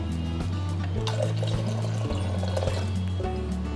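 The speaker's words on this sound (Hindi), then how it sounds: "मतलब 1 कप जितना पानी डाल देती हूँ।" Water is poured from a cup into a pot of dal on a gas stove, a steady liquid pour lasting several seconds beneath a low continuous hum.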